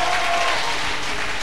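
Church congregation clapping steadily throughout, a dense, continuous wash of applause filling the space, with no voices standing out.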